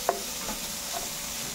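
A spoon stirs adobo with tomato in a hot frying pan, giving a couple of quick scraping clinks over a soft continuous sizzle, close and brief with no talk.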